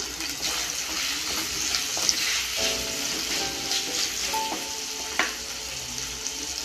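Sliced onion fries in a pan for fish curry, a steady moderate sizzle with occasional stirring clinks and scrapes, heard close and without speech.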